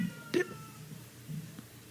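A cat named Mouse lets out a brief meow close by, one short sharp cry early on followed by quieter faint murmurs over a low room hum.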